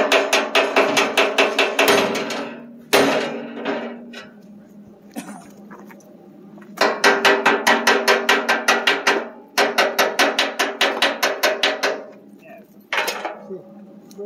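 Repeated metal hammering on a Kubota B7100 tractor's loader bucket during a repair, loud close bursts of rapid rhythmic strikes separated by short pauses, with occasional voices.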